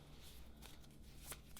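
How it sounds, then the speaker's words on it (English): Tarot cards shuffled in hand during a reading, a quiet, soft riffling and papery brushing that runs throughout with a few slightly sharper flicks, fairly faint and close. "So let's go ahead and start our shuffle."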